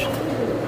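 A female homer pigeon coos in a short, continuous low murmur, close and fairly steady with no talk over it.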